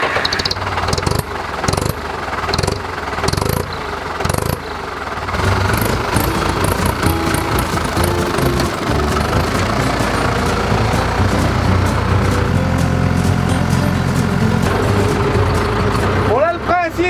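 A tractor's diesel engine cranks with several stuttering bursts, then catches and settles into a loud, steady, rough idle, close by, with someone talking over it.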